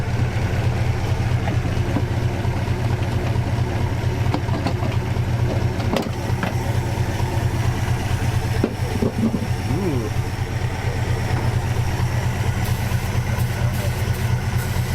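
A 1959 Plymouth car engine idles steadily and loudly, a continuous low rumble with slight irregular ticks throughout.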